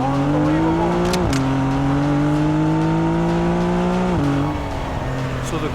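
Porsche 911 Carrera S engine revving hard under acceleration, a loud, close, steady rising drone with two quick gear-change dips and no talk over it.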